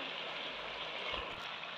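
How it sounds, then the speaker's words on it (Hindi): Reserved chickpea cooking water poured into a hot pan of frying potatoes and chickpeas, a steady rushing, sizzling stream throughout with a brief low thump midway. "अब इससे शोरबा थोड़ा सा बनाने के लिए हम इसमें पानी ऐड करेंगे जो हमने बचा के रखा हुआ था"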